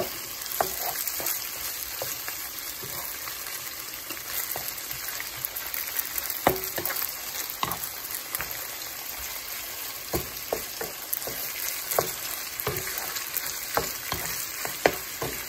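Ampalaya con carne, bitter gourd with beef, frying in a pan while being stirred constantly, a steady sizzle broken by repeated scraping and tapping of a utensil against the pan, close and without speech.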